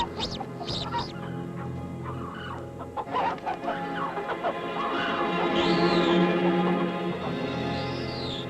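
A chicken clucks repeatedly in a documentary scene set against a falcon, with several short calls rising over a steady background of other fowl and farmyard noise.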